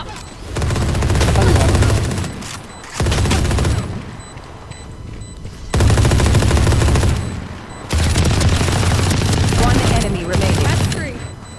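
Gunfire rattles through a shootout in Valorant, loud close bursts of rapid automatic shots in four long volleys separated by short pauses, with speech mixed in.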